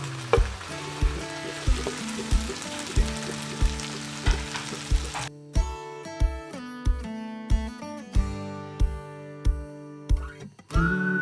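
Fried okra (bhindi) sizzles in a pan of onion masala, a steady frying hiss with regular stirring scrapes and knocks that continue alone throughout.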